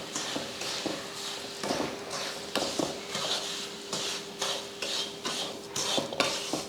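A utensil scrapes and stirs roasted semolina through a pan of onions in repeated strokes, with soft clinks against the metal and a faint sizzle underneath.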